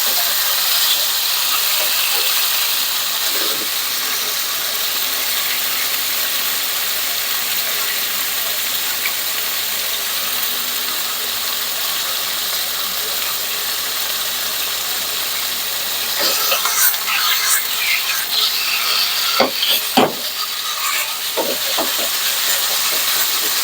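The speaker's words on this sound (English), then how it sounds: "Then what I'm going to do is cook the chicken in batches." Chicken pieces browning in a hot pan for lettuce wraps, a steady loud sizzle and hiss throughout with a few sharp pops and crackles near the end, no talking.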